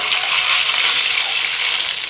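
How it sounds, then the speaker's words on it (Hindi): Ginger garlic paste sautéing in hot cooking oil gives a steady, loud, even sizzle that holds without a break for the whole stretch, with no voices over it. "मैं इसमें डालूँगी 1 टीस्पून अदरक और लहसुन का पेस्ट। इसको हम हल्का सा सौते करेंगे"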